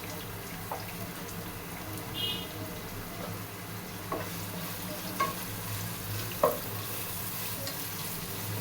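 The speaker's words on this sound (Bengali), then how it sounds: "একটু পেঁয়াজটাকে ভালো করে ভেজে নেবেন" Chopped onion frying in soybean oil in a pan gives a faint, steady sizzle, with a few soft clicks and taps of stirring scattered through.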